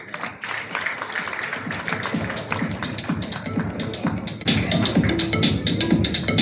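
An audience at a NEET results press meet applauds, a sustained patter of many hands with sharp individual claps that grows louder and fuller toward the end.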